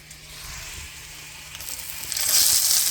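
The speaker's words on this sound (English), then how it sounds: "we're going to saute some onion and garlic with curry leaves" Onion and garlic with curry leaves sauteing in a pan, a steady close sizzle and crackle that swells louder toward the end.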